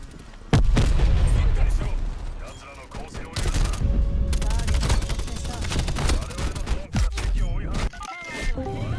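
Rapid gunfire and explosions in a shooter video game, dense bursts of shots and heavy booms throughout under a speaking voice.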